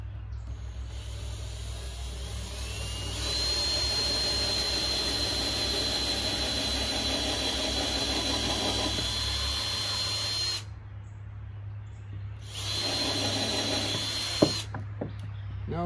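Power drill boring a hole for an eye bolt in a DIY poo deflector, a close, steady motor whine that runs continuously for several seconds, stops briefly, then starts up again, with no talking.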